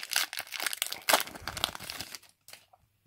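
Pokémon card packs being torn open by hand, giving close crinkling foil wrapper rustles and tearing in bursts for about two seconds before falling quiet.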